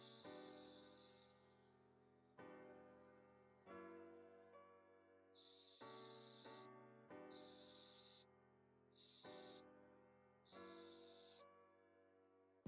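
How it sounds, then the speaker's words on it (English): An Iwata Eclipse HP-BS airbrush sprays in a series of short, soft hissing bursts, quiet and close, over a steady low mechanical hum. "That's my first time attempting to, to write with an airbrush."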